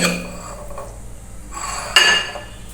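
Cutlery scrapes and clinks against a plate while a stuffed flour-dough snack with egg or chicken filling is cut, a few sharp taps and one louder knock close by, with no talking.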